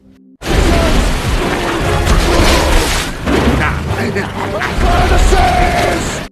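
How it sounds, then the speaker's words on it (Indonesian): A film's naval fleet opens fire on the giant Gulliver, loud continuous booming cannon fire and rumbling blasts that go on nearly without a break, dense and heavy, with a short lull partway through. "Tapi pasukan Black Ocean dengan semua armadanya malah menembak Gulliver."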